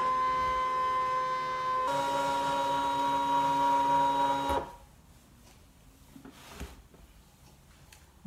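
A ScanNCut cutting machine scans a stamped card pattern, giving a loud steady mechanical whir with sustained tonal hum that shifts pitch partway, then stops abruptly, leaving faint handling noises.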